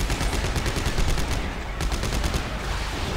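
Rapid automatic gunfire in the video game Dead Space 3, shooting at exploding creatures, a dense, loud stream of shots that continues almost without pause, with a short dip midway.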